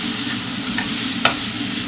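Spices and pepper powder fry in hot oil for egg curry, a loud continuous sizzle with a couple of light scraping stirs.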